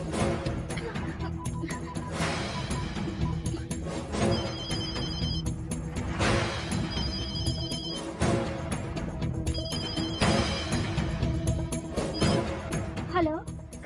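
A telephone rings in repeated bursts with short pauses between them, set against a busy background of dramatic music and sound effects in a dubbed Hindi horror film.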